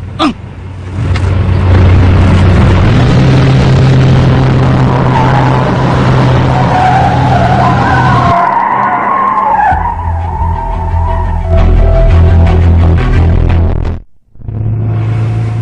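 An old car races along with its tires squealing and skidding loudly over a heavy engine roar. It ends in an abrupt cutoff and then rumbles on briefly.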